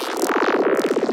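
Sustained granular synth texture with heavy phasing applied, producing a fast, pronounced whooshing sweep that pulses rhythmically through a droning tone, close and loud.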